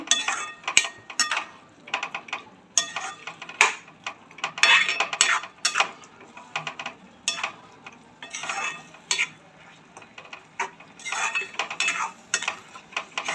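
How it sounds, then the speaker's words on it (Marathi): A spoon stirring eggs into fenugreek greens (methi bhaji) in a pan, with irregular metallic scrapes and clinks in close bursts and short pauses between strokes. "आता आपण सर्व मिक्स करून घेऊया मेथीच्या भाजीमध्ये"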